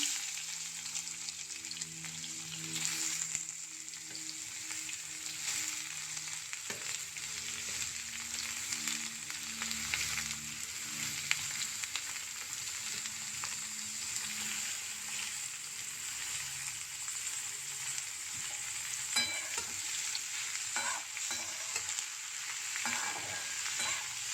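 Moong dal fries in hot oil with a constant close sizzle, broken by stirring scrapes and small clatters in the pan; no one speaks, and a faint low hum runs underneath.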